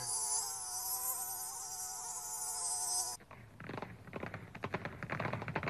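Flies buzz in a dense, steady high-pitched drone that cuts off abruptly about halfway through, giving way to a rustling, clattering background.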